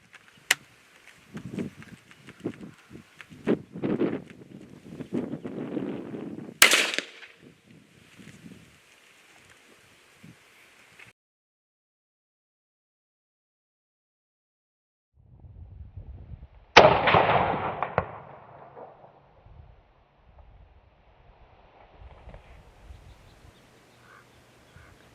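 Two sharp rifle shots from a Savage B.MAG heavy-barrel stainless in 17WSM ring out outdoors, each a loud crack with a decaying echo, separated by about ten seconds of handling noise and quiet.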